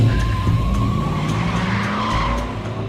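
Race car tires skid during a film shoot at the historic Monaco Grand Prix, a loud sustained squeal over a steady engine roar that holds for about three seconds.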